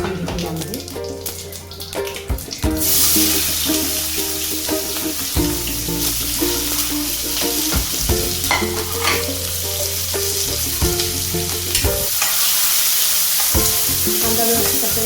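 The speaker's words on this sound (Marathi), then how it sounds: "आता यामध्ये मी टाकते आहे जिरे आणि कांदा बारीक चिरलेला टाकून घेते यामध्ये" Cumin seeds and finely chopped onion land in hot oil, building into a loud, continuous sizzle with stirring scrapes on top, while a voice talks faintly in the background at times.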